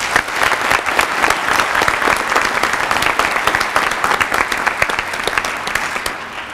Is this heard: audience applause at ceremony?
yes